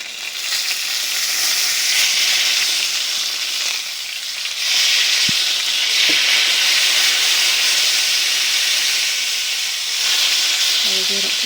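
Top cap sirloin steak sears in a cast iron pan, giving a loud, steady, close sizzle with a few sharp pops and clicks scattered through it.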